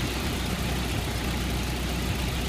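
A 1991 Jeep Wrangler with 91K miles idles steadily, its engine giving a continuous low rumble and hum that stays even and close, with no voices over it.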